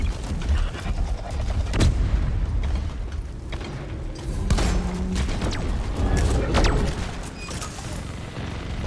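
A huge creature dies in a massive explosion in Deep Rock Galactic, heard as heavy booming blasts and rumbling, crackling debris over a dense, loud game soundscape, with voices mixed in.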